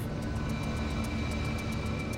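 Seaplane engines roar steadily during a takeoff run across water, a loud continuous drone with a faint rhythmic pulsing, and no voices.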